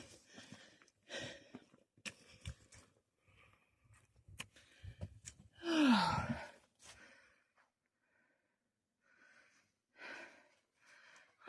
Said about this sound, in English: if you can hear my labored breathing, it's because every day we're walking